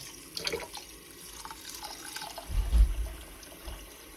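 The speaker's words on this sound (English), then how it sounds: "And add some clean water." Clean water pours and splashes into a pot of rice, a soft trickle building to a brief louder gush, then settling.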